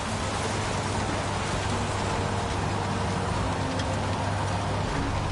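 Steady, dense rainfall in the video game Heavy Rain, a continuous hiss of rain on surfaces at even loudness with no voices.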